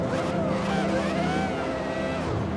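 A Ferrari 488 GT3 race car fitted with an F1 V10 engine in the Assetto Corsa racing game, its high-pitched engine wailing loudly and continuously with rising and falling revs, no talk.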